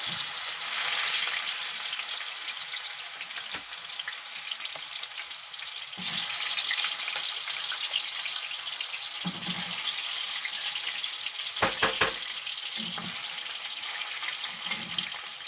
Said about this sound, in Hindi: अब इसको हम करेंगे फ्राई, हल्के हल्के फ्राई करके इसको